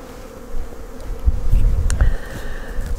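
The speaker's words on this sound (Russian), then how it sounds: "Сегодня, я думаю, закончить осмотр всех пчелосемей." Honeybees buzz steadily around beehives during a spring inspection after the colonies come out of winter storage. A continuous close drone is joined by a few louder passes of individual bees, with some handling noise.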